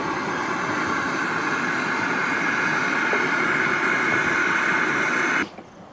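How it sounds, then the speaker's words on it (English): Steam roars steadily from a geyser vent, a loud continuous rushing hiss heard alone that cuts off abruptly near the end. "Strong sounding steam, ain't it?"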